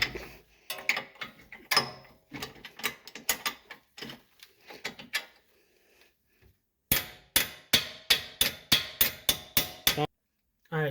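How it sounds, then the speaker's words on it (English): Impact wrench spinning a nut off a bolt on a 2010-2014 Subaru Outback during a lift kit install, rapid hammering bursts in several separate runs with pauses between, close and fairly loud. "we'll be able to impact the nut right off"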